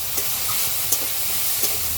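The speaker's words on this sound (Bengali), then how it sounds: "আর হলুদ দিয়ে চিংড়ি মাছগুলো ভালো করে ভেজে নিই" Prawns fry with salt and turmeric in a very hot pan, giving a steady close sizzle with a few soft stirring knocks and no voices.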